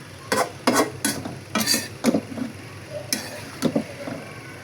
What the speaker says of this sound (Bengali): শাকগুলোকে অল্প অল্প করে মাছের সাথে মশলার সাথে মিলিয়ে দিলাম